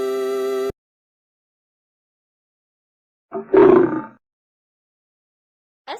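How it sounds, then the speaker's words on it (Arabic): A lion lets out a single deep, rumbling roar lasting under a second, loud and close, preceded by a short chime and silence, with another faint sound starting at the very end. "أسد."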